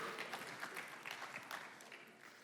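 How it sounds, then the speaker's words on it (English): An audience cheers and applauds for a couple of seconds, a dense wash of clapping with some whoops, heard quietly from a distance. "Big cheer."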